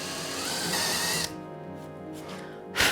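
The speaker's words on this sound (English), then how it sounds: "drill about 1/4 inch in." A steady mechanical whir of a drill boring about a quarter inch into a wooden work table, continuous for about a second, then quieter motor hum with a short burst near the end.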